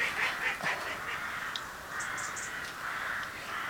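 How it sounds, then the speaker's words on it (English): Ducks call outdoors at a moderate distance, a few brief quacking bursts over steady rustling background noise, with no voices. "There go the ducks."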